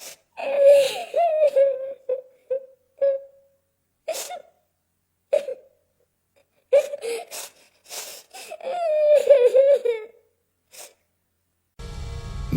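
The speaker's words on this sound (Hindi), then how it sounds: "ये रोने की आवाज है।" Soft, broken sobbing and whimpering of a child in a Hindi horror story, heard in short wavering bursts separated by silences, close and quiet, ending in a brief burst of noise.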